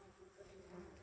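A steady, close buzzing of bees humming continuously without pause, outdoors at a campsite on the Pacific Crest Trail.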